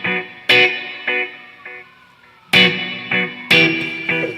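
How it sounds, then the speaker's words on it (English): Electric guitar through a tape delay pedal on a pedalboard, loud distorted chord stabs each followed by fading echo repeats, in bursts with a quieter gap between, no voices. "This is a regular tape delay."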